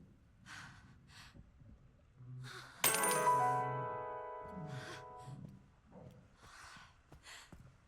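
A coin drops with a bright metallic ring that sustains for a couple of seconds in the Resident Evil Requiem game, among soft breathing and sighs.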